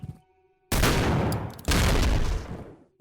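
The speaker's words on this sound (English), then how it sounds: "I'll bet you if I shoot that, it'll blow up" In the video game Leaden Sky V5, two loud, close gunfire and explosion bursts hit back to back, each a heavy crackling blast that fills the space before dropping to near quiet.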